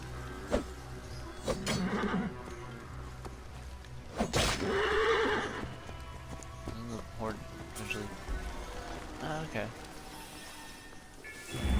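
A horse in the video game Assassin's Creed Origins gives a sharp neigh and later whinnies again, with hoof clip-clops and someone talking over the game sounds.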